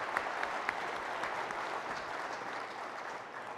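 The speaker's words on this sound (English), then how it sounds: "A round of applause for our winners there" An audience claps for contest winners at the NACD 2026 annual meeting opening general session. The applause is fairly soft and distant, with a few sharper claps early on, and it fades slightly toward the end.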